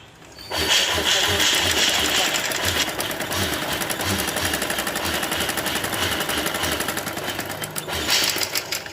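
A sewing machine stitches handbag seams in a fast, continuous mechanical whir with a steady rapid rhythm, running loud and close for most of the clip after a quiet start.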